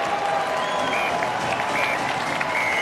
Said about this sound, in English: Applause from the Warrington Wolves faithful.